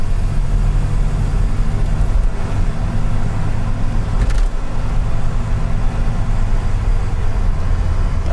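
A 1981 Chevrolet Corvette on a test drive, its engine droning loudly and steadily from inside the cabin with road and wind noise, while the gear changes pass smoothly.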